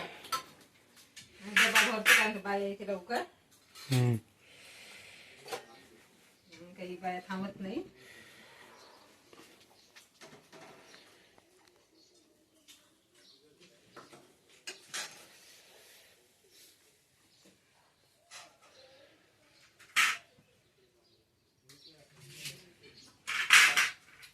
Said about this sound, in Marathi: सुमित्रा डब्बा घालताय आता